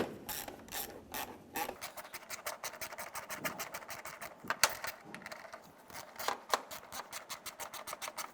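A ratchet tightens bolts on a 2007-2013 Mini Cooper headlight assembly, rapid close clicking in repeated bursts with occasional scraping of metal, no talking.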